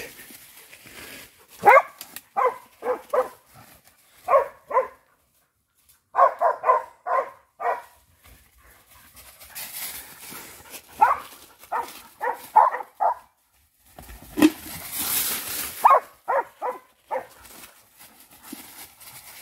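Mixed-breed hunting dogs in training for wild boar bark in repeated bursts of sharp, clustered barks, loud and close, with short pauses between volleys and a few whimpers.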